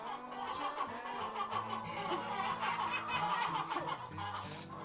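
Several free-range hens clucking and chattering close by, overlapping soft, irregular calls with a busy low murmur in the background.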